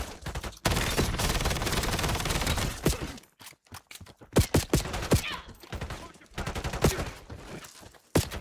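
Light machine gun fire in a shooter video game: long rattling bursts, loud and close, broken by short pauses and then chopped into shorter volleys, with a voice talking at times.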